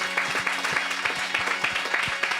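Church congregation applauding in steady rhythmic claps, moderately loud and continuous, like clapping along during worship.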